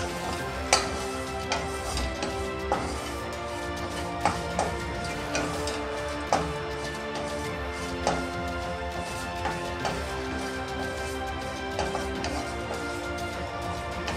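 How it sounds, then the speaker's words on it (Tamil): Crushed garlic and tamarind dry-roasted over high heat in a pan give a faint, steady sizzle, broken by repeated sharp taps and scrapes of a spoon against the metal. No one speaks. "இந்த பூண்டை வறுத்ததும் புளியும் அது கூடயே போட்டு வறுத்துக்கலாங்க"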